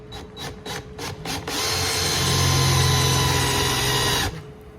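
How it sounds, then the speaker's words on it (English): A power drill bores into a mini bike frame: a few short scraping taps, then a sustained whirring grind close up that cuts off sharply near the end. "We're going to take it and we're going to drill right there."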